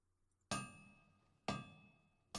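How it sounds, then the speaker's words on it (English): Two bright, ringing metallic strikes of hammer on metal from the anvil of the Hammers of Durgan in Pillars of Eternity: The White March, about a second apart, each with a long shimmering decay over a quiet room tone. "Distantly, you hear the melodic chime of metal on metal and the low chorus of a work song."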